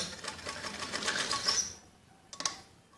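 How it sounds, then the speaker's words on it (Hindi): A sewing machine whirs in a fast, steady burst as it stitches fabric panels of a jacket frock, then slows to a halt with a few clicks. "और इसमें ऐसे हम तिरछी सिलाई लगाएंगे, ऐसे ऊपर इस सिरे से थोड़ी टेढ़ी करके"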